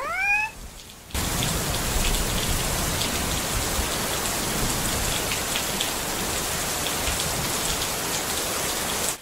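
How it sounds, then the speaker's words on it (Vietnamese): Water sprayed like rain onto a Redmi K70 Ultra phone to cool it makes a dense, steady hiss of droplets pattering on the surface, close and continuous after a brief chirp at the start, with no voices. "Chắc là ra tí nước mưa cho nó tản nhiệt anh em nhỉ."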